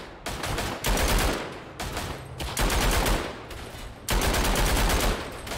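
Light machine gun fire in the WWI shooter game Verdun sounds as loud rapid bursts, several sustained volleys separated by brief pauses, with no talk.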